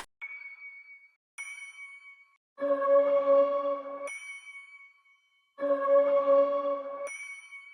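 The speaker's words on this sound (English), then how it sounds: "So this is what bell 1 sounds like. This is what bell 15 sounds like." Synthesized bell tones alternate: a thin high ding twice, then a fuller, lower ringing chord, repeating the pattern with clean silences between.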